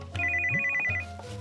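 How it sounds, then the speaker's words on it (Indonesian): A mobile phone ringtone plays loudly and close by, a bright repeating electronic melody of quick tones cycling over low sustained notes, with no talking. "Oh, Uyuy, handphonenya bunyi."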